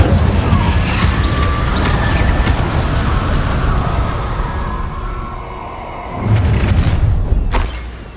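A fiery Incendio spell from a Harry Potter video game bursts with a deep booming rumble that rolls on steadily, then swells into a second heavier blast near the end before fading; a faint voice sits under it.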